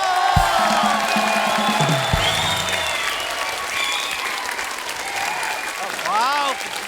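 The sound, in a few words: applause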